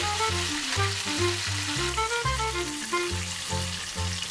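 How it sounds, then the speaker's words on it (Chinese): Chicken pieces in a thin bread-flour coating deep frying in oil at 180 degrees, a loud, steady, dense sizzle and bubbling with no talk over it. "高筋面粉的面衣薄薄的，180度油炸把油都逼出来了"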